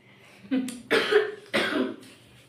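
A woman coughs three times in quick succession, close and fairly loud, each cough short and throaty with brief pauses between.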